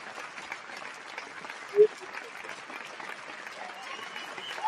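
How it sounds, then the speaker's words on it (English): An audience claps for a pair of guests, a soft, steady round of applause heard from a distance, with voices talking over it and a brief louder bump partway through. "Let's give them a round of applause."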